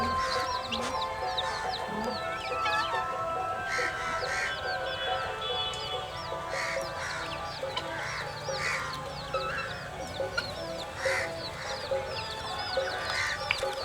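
Several chickens cluck and call repeatedly in a rural setting, a busy chorus of short clucks and squawks at moderate distance over a steady background.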